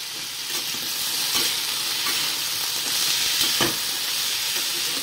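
Spices with salt and turmeric frying in a pan, a steady loud sizzle with a crackling hiss throughout and occasional scrapes from stirring, no talking.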